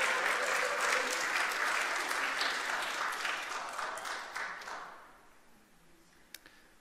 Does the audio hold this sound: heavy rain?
no